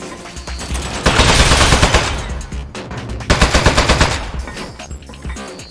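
A turret opens fire in the video game Aperture Desk Job with two long, loud bursts of rapid machine-gun shots, close up and separated by a brief lull.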